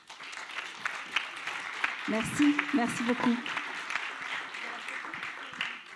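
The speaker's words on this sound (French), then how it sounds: "Je crois qu'on peut les applaudir." A conference audience at a trade fair talk on corporate social responsibility applauds in a steady, moderately distant patter, while someone speaks briefly over it.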